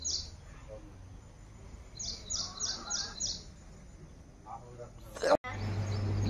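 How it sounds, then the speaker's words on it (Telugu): Chickens cluck and chirp in short repeated bursts at a moderate distance, with a sharp knock near the end and steady background noise. "ఇదో ఆ కోడి, ఆ పుంజుకోడి అనమాట"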